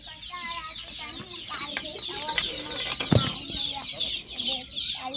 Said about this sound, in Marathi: हा आपण बघू शकता नाग आणि या कोंबड्यांचा आवाज देखील ऐकू शकता.